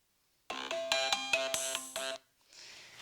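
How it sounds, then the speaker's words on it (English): A phone ringtone plays as a long, continuous melodic tone sequence, fairly clear and close, then cuts off abruptly, followed by faint rustling; used for sound-sensitivity training of a dog. "choose a ringtone that goes on and on and on"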